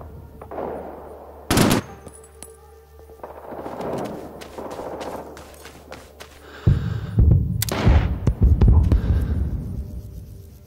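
An artillery barrage in Rising Storm 2 brings loud, close explosions and bursts of rapid gunfire, the blasts heavy and low with rumbling between them, as players talk in the background.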